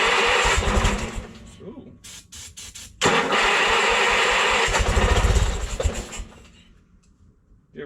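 A Bolens QT16 lawn tractor, over ten years old, bursts into a loud close engine roar after a brief faltering attempt, then settles into a steady run before cutting back; a voice exclaims briefly.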